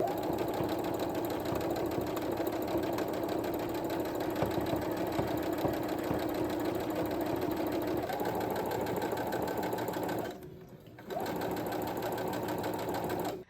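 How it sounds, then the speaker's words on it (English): A sewing machine stitching pants runs in a steady, fast mechanical whir at close range, pausing briefly near the end before starting again, with no voices. "But I'm gonna sew the pants and then we will keep on going."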